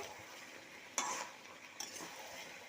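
Chicken and potatoes being stirred in a pan, with two short scraping strokes of the spatula against the metal over a quiet background of soft cooking noise.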